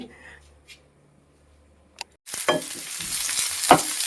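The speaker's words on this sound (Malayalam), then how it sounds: "കടുകിട്ട് പൊട്ടിച്ചു പച്ചമുളകും കറിവേപ്പില ഇട്ടു ഒരു സവാള അരിഞ്ഞതിട്ട് വഴക്കുകയാണ്" Mustard seeds crackle and spatter in hot oil as green chillies, curry leaves and chopped onion are tossed in, bursting into a loud, dense sizzle after a quiet start with a few faint clinks, with stirring pops punctuating the frying.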